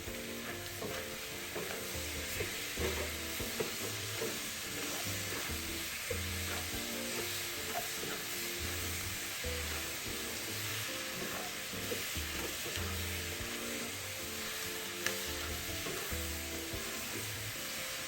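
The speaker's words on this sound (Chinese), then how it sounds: "继续拌炒均匀。" Braised meat sizzles and scrapes steadily in a hot wok as it is stir-fried with five-spice powder, pepper and dark soy sauce, a continuous close frying hiss with rhythmic stirring, no talking.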